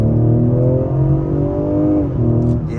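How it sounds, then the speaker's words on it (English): A 2023 Ford Explorer ST engine revs and its exhaust drones as the SUV accelerates, pitch climbing steadily with a brief dip as it shifts, heard from inside. "I like that exhaust noise"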